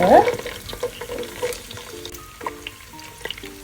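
Chopped onions go into hot oil in a pan for a rice dish, after curry leaves and pandan have been fried, and a loud crackling sizzle bursts up at first, then settles into steady frying with occasional stirring scrapes.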